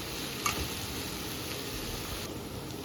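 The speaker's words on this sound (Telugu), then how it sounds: "ఆనియన్స్ కూడా వేసి మంచిగా ఫ్రై చేసుకుంటున్నాం" Onions frying in a pan for a tomato curry: a steady, close sizzle that runs throughout, with one brief stir clink near the start.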